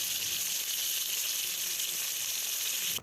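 Fish tikka pieces fry in hot oil with a steady, loud, continuous sizzle that holds evenly throughout before cutting off abruptly at the end.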